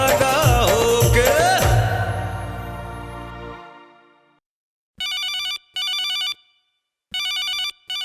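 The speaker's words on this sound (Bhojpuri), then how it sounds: "इसी के साथ हमारे एक और कॉलर का फोन आया है" Telephone ringtone for an incoming caller on a Hindi radio show, heard as four short electronic ring bursts after a song fades out, loud and clear with no talk.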